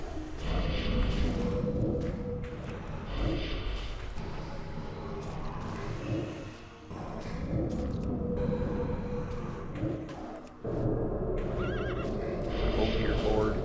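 Horses in World of Warcraft whinny and neigh repeatedly over clip-clopping hooves and game noise, loud and close with short pauses between calls.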